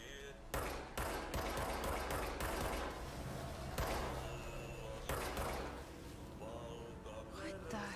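Gunfire crackles in the video game Control, with repeated sharp shots in quick bursts and separate single blasts spread across the stretch, fairly close and clear over game ambience.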